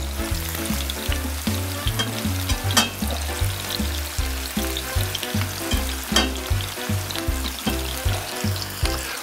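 Hen of the wood mushrooms fry in an oiled pot over medium heat with a continuous crackling sizzle, steady and close, under rhythmic background music.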